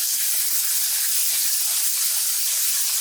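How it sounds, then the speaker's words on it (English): Ground beef browns in a hot pot with a loud, steady, broadband hiss and sizzle that runs unbroken for a few seconds, with no talking over it. "let's add this ground beef, get it seasoned up, browned up, keep rocking"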